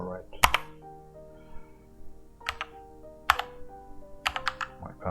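A password typed on a computer keyboard at a Linux terminal: a few sharp key clicks in small clusters with pauses between, close and clear over a faint background hum.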